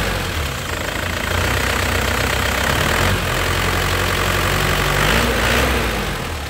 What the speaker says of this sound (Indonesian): Ini suara mesinnya ya lur.